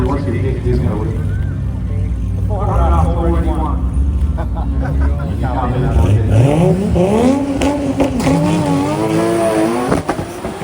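Nissan GT-R M-Spec Nür and GT-R 400R drag racing at GTR Festival USA, loud engines climbing in pitch through the gears with a steady roar throughout, voices talking over them.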